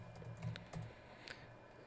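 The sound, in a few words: typing on a computer keyboard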